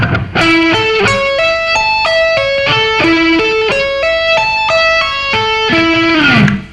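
Distorted electric guitar plays a slow arpeggio of clear, separate notes climbing and falling in a repeating pattern, with a tapped high octave of the root, loud and alone before a final note bends down.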